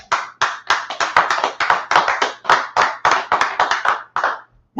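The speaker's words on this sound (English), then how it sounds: "Clap it up" An audience claps together at a Monday night history class held at ISUPK headquarters in Harlem, New York: loud, dense, rapid applause bursts that run steadily, rising and dipping slightly before stopping.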